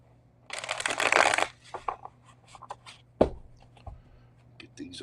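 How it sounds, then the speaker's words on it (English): Tarot deck shuffled by hand in a quiet room: a dense riffling burst up front, then scattered card taps and slides, with a sharp knock midway. "Get these all nice and shuffled up."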